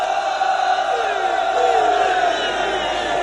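A large crowd at a religious celebration gathering roars a slogan together, a dense sustained wall of many voices shouting in unison, loud and close throughout.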